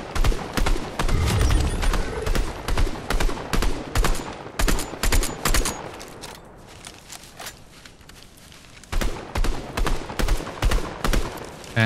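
Rapid gunfire in Fortnite hammers at building walls, loud repeated bursts of shots in quick rhythm, pausing briefly near the middle before the shooting resumes just as fast.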